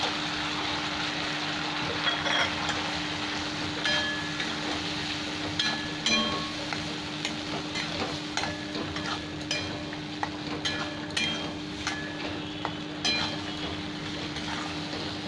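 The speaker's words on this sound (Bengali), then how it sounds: "চিংড়ি মাছটা দিয়ে আরও 1-2 মিনিট ভালো করে ভেজে নেবো মশলার সাথে" Prawns sizzle in hot oil and spice paste in a Bengali home kitchen, with a steady frying hiss broken by frequent scrapes and clinks of a spatula stirring the pan.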